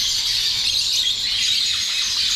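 A bird at a pet market in Dubai screams continuously, a loud, shrill, high-pitched squeal held steadily over a couple of seconds with no pause.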